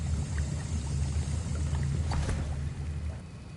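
A potion is stirred in a cauldron in a Hogwarts Legacy classroom: a steady low churning slosh of liquid, close and continuous, easing off toward the end.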